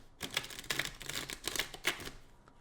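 A deck of tarot cards is shuffled by hand, giving a quick run of crisp papery riffles and taps in an uneven rhythm, close and fairly quiet, with no talking.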